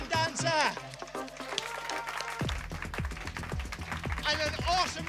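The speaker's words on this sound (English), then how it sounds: "Let's have a round of applause for this awesome dancer." Applause and cheering break out for a dancer at a live improv show, with bursts of clapping and whoops mixed with voices and energetic sounds.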